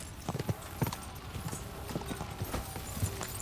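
Horse hooves clip-clop in a steady walking rhythm in the medieval video game Kingdom Come Deliverance 2, moderately close, over faint ambient background.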